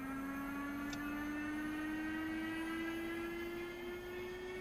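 Mirage M2000C jet engine spooling up in a DCS flight simulator cold start, a steady loud turbine whine rising slowly in pitch over a constant roar, with a brief click near the start and no voices.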